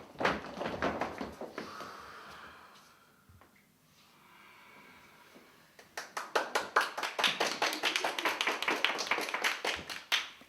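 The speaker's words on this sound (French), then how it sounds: "Applaudissements, ovations." A small circle of people bursts into applause, scattered claps at first, a quiet pause, then a denser, steady round of clapping.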